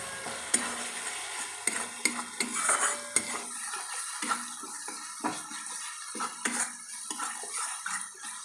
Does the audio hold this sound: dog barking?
no